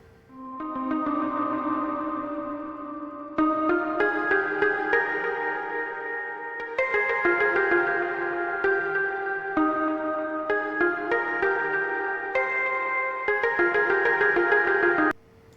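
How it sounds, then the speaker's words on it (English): Two layered synth lead patches, Fairy Tale and Dark Celeste from iZotope Iris 2, play a bright, bell-like chordal melody that shifts every few seconds, sustained, loud and close with no talking. "I have two lead sounds over here, and I use Isotope Iris 2 for this"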